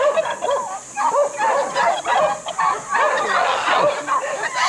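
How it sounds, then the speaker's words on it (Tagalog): Turkeys on a rural farm in Bulacan, Philippines gobble and cluck in loud, close, overlapping bursts that continue throughout. "Look at the turkeys."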